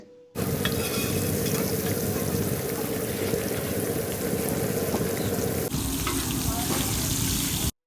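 Hilsa fish frying in a riverside restaurant kitchen at Mawa Ghat, a steady loud sizzle with stirring scrapes running continuously close by, with faint background voices.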